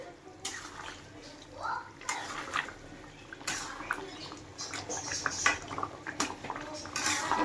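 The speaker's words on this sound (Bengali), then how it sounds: "এই দুটো দিয়েই আমি এবার নামিয়ে দেব তরকারিটা একটু নেড়ে চেড়ে নেব সুন্দর করে" Chicken curry being stirred in a pot with a metal spoon, a series of light clinks and scrapes over a low simmering hiss, fairly faint and close.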